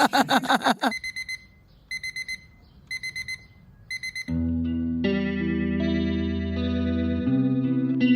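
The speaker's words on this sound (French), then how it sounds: "Encore un de ces matins où j'entends pas mon réveil." An alarm clock rings in short repeated electronic beeping bursts, loud and close, then gives way to sustained synthesized music tones.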